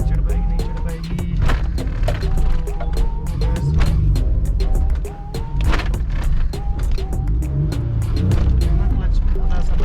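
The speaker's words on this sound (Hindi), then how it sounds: "गाड़ी फंस रही है" Car engine straining while stuck on a steep mountain road on a Ladakh trip, loud rough revving and clattering surges under busy talk and shouting from several people nearby.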